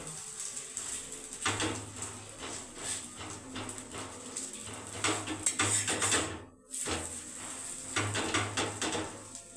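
Batter of wheat flour and jaggery for bati sapta frying in a little white oil in a pan over low gas, giving a steady close sizzle with a few light clinks and no voices.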